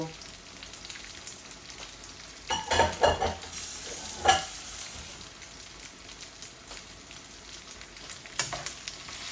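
Soft, steady sizzling of dried fish frying in a pan, fairly quiet, with a few louder bursts of crackle and stirring clatter partway through.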